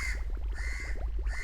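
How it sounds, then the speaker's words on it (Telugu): A crow caws in repeated harsh, rasping calls over a low rumbling background, fairly close and without speech. "ఏంటి ఈరోజు కాకి ఇంతలా అరుస్తుంది?"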